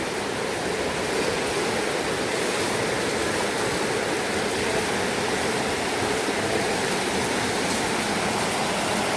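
The broad Cisokan river rushes steadily, a dense, continuous roar of flowing water close by with no voices over it.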